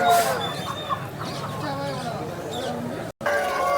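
Chickens at the Vijayawada rooster market cluck and call in short bursts over a busy background of voices and crowd noise.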